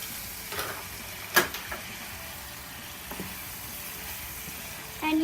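Ground meat seasoned with salt sizzles quietly in a pan, with a few clear scrapes and clinks as a utensil stirs it, and a louder clatter at the very end.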